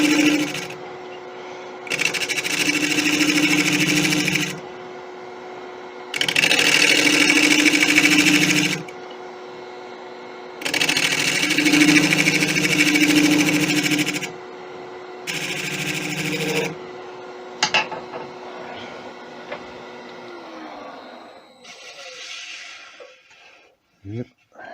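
A wood lathe turns an Irish beech and bubinga yarn bowl as a tool cuts the shape. Loud bursts of cutting, each several seconds long, rise over a steady motor hum. A voice talks at times, and the end brings quieter scraping and knocks.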